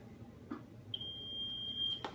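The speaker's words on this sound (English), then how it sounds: "He heard the timer go off." A kitchen timer gives one steady, high electronic beep lasting about a second, fairly faint against a quiet room, with soft thumps just before and after.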